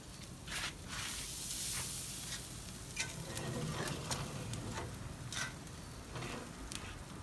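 A T-bone steak with gravy sizzles over open-fire coals, a steady crackling hiss with sharp spits and pops scattered throughout, close up and without talk.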